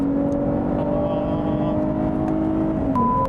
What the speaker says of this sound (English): Wow, great engine, great engine.